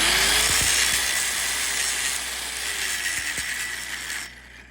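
A grinder works over a pipe weld, giving a steady, bright, continuous whine with a rough abrasive hiss that eases slightly before cutting off near the end.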